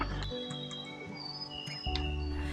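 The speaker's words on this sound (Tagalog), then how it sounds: "Dami kumakantang ibon." Birds sing along a forested mountain trail on Mt. Dulang-Dulang in Bukidnon, with several overlapping whistles and chirps at moderate distance over a constant insect and cricket drone, plus a low rumble of footsteps or handling.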